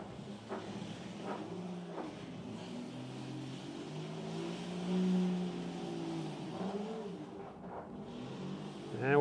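A SCAG EVZ electric zero-turn mower with a 5 kilowatt battery runs at a low, steady hum, with a few faint brief clicks and a swell in the middle; no one talks.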